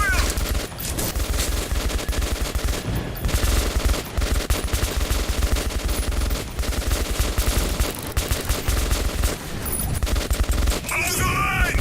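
Dense, loud automatic gunfire rattles almost nonstop in the video game Metro 2033 Redux, forming sustained bursts from several weapons over a low rumbling background.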